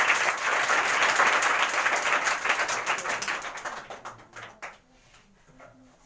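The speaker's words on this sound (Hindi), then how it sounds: "जोरदार ताली मार के उनका स्वागत करें" Loud applause from a crowd at a Water Day school function at Sant Kabir girls' inter college greets the school manager, holding strong for about four seconds before thinning into scattered claps and dying away.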